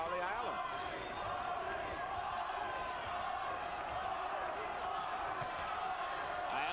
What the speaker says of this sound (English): Ayala's crowd from Fort Worth, Texas, chanting Paulie, Paulie, Paulie.